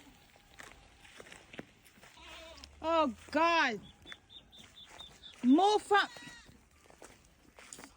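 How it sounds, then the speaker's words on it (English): Goats bleating on a farm in Jamaica, several loud, wavering bleats in two close bursts near the middle of the clip, with footsteps and people talking around them. "This freaking goat."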